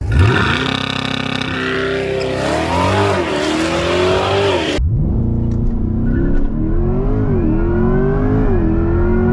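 A Chevrolet Corvette C8 E-Ray launches hard under full acceleration, its engine rising in pitch through the gears. A sharp cut halfway through is followed by another strong, loud acceleration run, close up with no talk.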